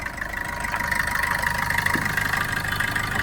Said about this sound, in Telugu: వెహికల్ ఒక ఇంజన్ చూపిస్తాను చూడండి